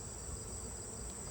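A dense, steady insect drone of bees swarming around an opened beehive while boxes are being switched out, continuous and fairly close with no pauses.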